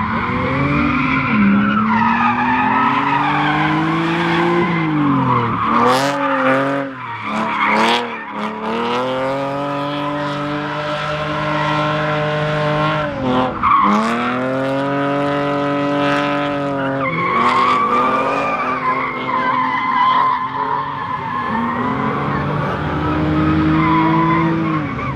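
A drift car on a race track sounds loud and close, its engine revving and wailing up and down while the tires squeal and skid in long, sustained screeches, with brief drops between slides.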